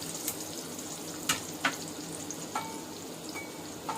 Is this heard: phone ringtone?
no